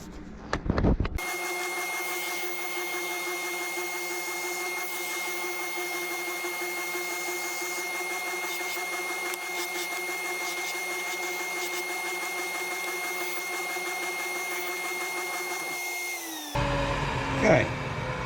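A power tool runs steadily as a wooden wheel handle is sanded down, a continuous close whine with a steady tone that starts abruptly and stops near the end.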